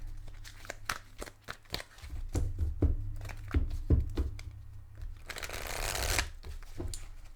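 Tarot cards shuffle close up: a run of quick riffling snaps and taps, then a dense flurry of fluttering cards, over a low room hum with no speech.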